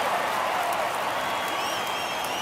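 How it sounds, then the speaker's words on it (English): Baseball crowd roaring at a Cubs at Mets game in the 2000 MLB season, a steady wash of broad, distant noise that holds evenly for a couple of seconds. "And the crowd roars."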